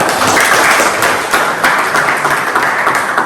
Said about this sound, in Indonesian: Oke, tepuk tangan semua benar sekali.